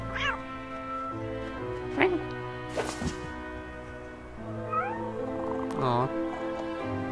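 A cat in the LEGO Batman game lets out several short, bright meows spaced across the clip, mixed with game music and someone talking.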